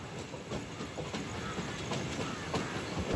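A MEMU passenger train runs on the Nidadavolu–Bhimavaram–Gudivada line, heard from inside as a steady, moderate rumble with regular rail clicks and faint hiss.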